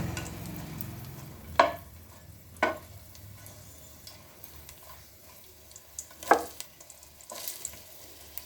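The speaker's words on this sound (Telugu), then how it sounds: "వెల్లుల్లిపాయ బాగా ఫ్రై అవ్వాలండి అప్పుడే మంచి టేస్ట్ వస్తుంది" Garlic fries in a pan for a vegetable curry, a soft continuous sizzle broken by several sharp clicks and scrapes of a spoon against the pan.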